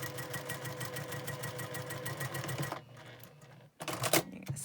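A sewing machine runs fast across a double hourglass quilt block in a close, even mechanical whir, then stops, then gives a short burst and some clatter near the end.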